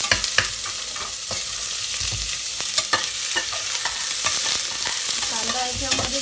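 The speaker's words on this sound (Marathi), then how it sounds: "कांदा याच्यामध्ये चांगला फ्राय करायचा, पूर्ण लाल होईपर्यंत आपण ते फ्राय करणार आहोत" Chopped onion frying in hot oil in a pressure cooker for chicken biryani, a steady loud sizzle broken by repeated scraping clicks of a spoon stirring against the metal, with no voices.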